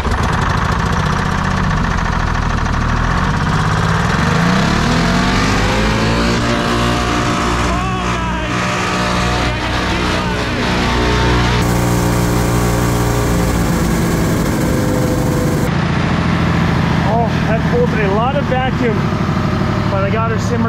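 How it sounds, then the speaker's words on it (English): Detroit 6V53 two-stroke diesel in a Chevy C70, sitting 30 years, cranks and fires, then runs loud and rough with revving before settling toward an idle, with people talking over it. "the exciting moment of hearing this two-stroke diesel come back to life after sitting for 30 years"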